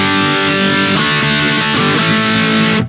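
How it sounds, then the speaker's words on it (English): Electric guitar played through a boosted amp model on a Hotone Ampero 2 amp modeller, with a GT-1000 as the source: a thick, saturated sustained chord with a few re-picked notes, loud and alone, cut off abruptly at the end. "So what you're hearing is basically the boosted amp model."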